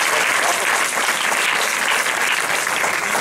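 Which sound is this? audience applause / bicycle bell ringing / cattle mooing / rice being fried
audience applause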